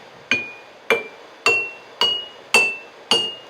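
Six evenly spaced bright glassy tings, each ringing briefly at a slightly different pitch, as the tops of glass jars of water are tapped one after another.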